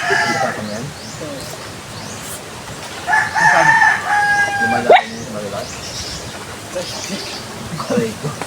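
A rooster crows on a farm among other chickens, a single drawn-out call rising clearly over soft clucking and background chatter, with people talking intermittently nearby.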